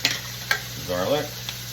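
Garlic dropped into a hot pot while making pot roast, a brief crackling sizzle with stirring scrapes and a couple of sharp clicks, heard up close over a steady background hiss.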